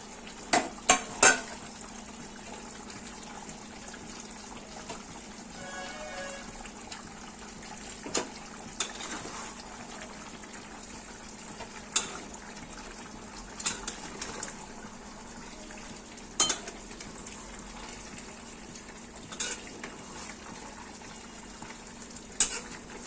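Fried onions stirred into mutton biryani in a pan, with a low steady sizzle under repeated sharp clinks of a spoon against the pot, close and moderately loud.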